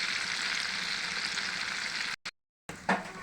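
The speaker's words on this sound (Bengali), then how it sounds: "মাছটা ভেজে নেওয়া হয়ে গেছে" Hilsa fish frying in a pan with a steady, loud sizzle throughout, cutting out abruptly for a moment before resuming with a brief clatter.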